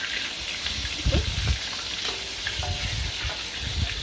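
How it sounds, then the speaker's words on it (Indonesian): Salted tilapia fish frying in oil in a home kitchen, a steady soft sizzle with a few louder spatters and stirring clatters, quiet and close, no talking. "Itu ikan asinnya udah saya goreng."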